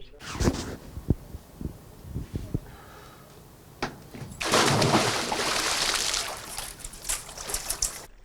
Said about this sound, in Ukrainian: Перше у цьому році занурення у воду.